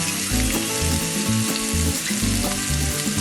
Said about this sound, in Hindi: थोड़ा सा ऑयल डालेंगे और स्लो फ्लेम पर फ्राई करेंगे।